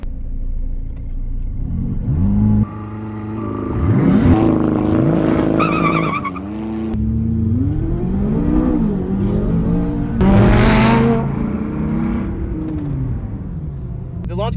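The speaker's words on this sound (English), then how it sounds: "when I point at you, you're gonna do your launch control, go" A Dodge Viper ACR and a twin-turbo McLaren 570S launch side by side in a race. Loud engines rev and climb through gear changes with brief tire squeal, close and forceful.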